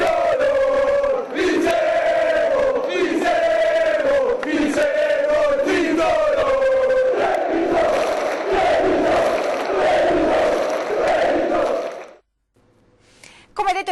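Basketball fans celebrating Treviso's promotion to Serie A1 chant loudly at full voice, a dense rhythmic crowd roar that repeats in phrases for about twelve seconds before cutting off abruptly.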